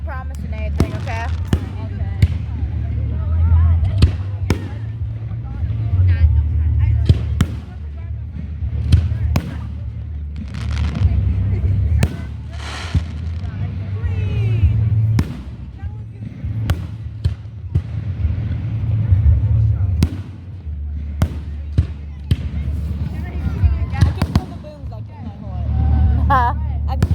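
Fireworks go off outdoors in a series of sharp booms and crackles, some near and some distant, scattered irregularly while onlookers talk and react throughout.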